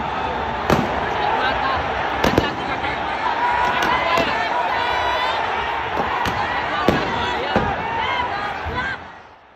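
Riot police fire multi-smoke tear gas projectiles inside a football stadium at night, a series of sharp, separate bangs spaced a second or so apart over a constant roaring crowd din, with some speech mixed in.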